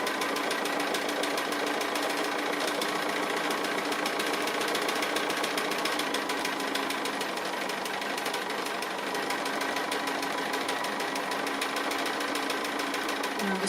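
A sewing machine stitches a small tree applique block for a quilt, running continuously and fairly loudly with a fast steady rattling hum and a slight change in pace partway through.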